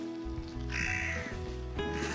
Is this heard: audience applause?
no